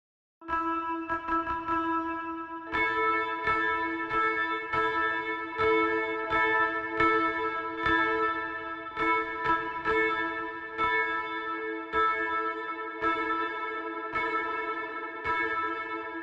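Sustained, bell-like synthesized tones with a bright, ringing pitch, repeatedly retriggered in choppy bursts and washed in heavy reverberation.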